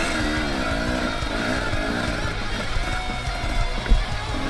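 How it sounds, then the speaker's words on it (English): A KTM XCW250 dirt bike rides a wooded trail during an FMSQ race at Rivière-Rouge, its engine droning steadily and loudly with small revs and a bump near the end. "This KTM XCW250 really soaks up the bumps."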